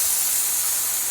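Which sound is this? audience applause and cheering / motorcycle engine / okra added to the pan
okra added to the pan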